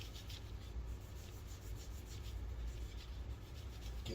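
Hand rubbing finish into the wooden body of a bass guitar being built from salvaged parts, a faint, steady, continuous rubbing hiss with soft repeated strokes and no talk.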